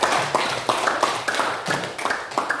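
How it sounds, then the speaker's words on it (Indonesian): A school class clapping in applause, a few loose rhythmic claps repeating at a quick pace, fairly close and alone without talk. "Ya, kita berikan aplaus."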